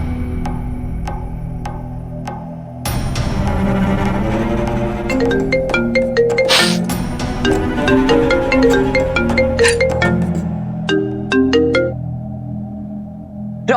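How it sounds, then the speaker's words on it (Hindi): A phone ringtone plays a bright, repeating electronic melody during an outgoing call, loud and continuous for several seconds with no voices over it. "आंटी मैं मेरे फोन से ट्राई करती हूँ।"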